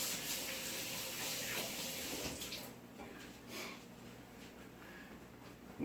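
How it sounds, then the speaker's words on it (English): Running tap water splashes over hands at a kitchen sink, a soft continuous hiss and patter that is fuller at first, then eases off and turns patchier, fairly quiet overall. "I'm gonna wash my hands real quick again."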